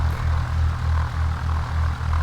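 A Cessna 172 aircraft engine idles on the ground, a steady loud propeller drone with a pulsing low throb, running alone without talk.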